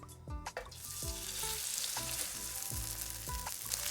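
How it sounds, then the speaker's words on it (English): Chicken breast cutlets sizzle steadily in hot oil in a pan, with a continuous close crackle broken by several soft clanks and knocks of utensils or pieces being laid in. "Fry on one side for about 3 minutes"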